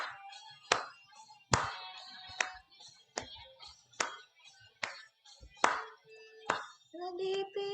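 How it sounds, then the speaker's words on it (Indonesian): Church congregation clapping hands during a women's worship service, a series of sharp, loud claps at a slow, irregular rhythm, with singing and tonal music filling the gaps between them. "Kita mau tepuk tangan kita buat Tuhan."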